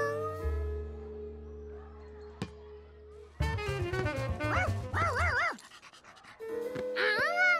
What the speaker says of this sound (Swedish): Är det din hund?